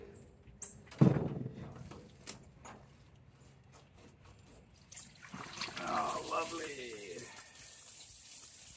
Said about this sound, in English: I'm just going to let that flow. It's really just water